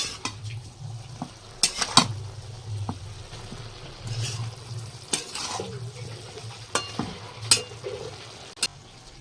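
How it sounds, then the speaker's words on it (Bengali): Chilies and tomatoes being stirred in a cooking pot: scattered utensil scrapes and knocks against the metal over a low, steady frying hum, fairly close and unhurried. "নাড়িয়ে দেবো"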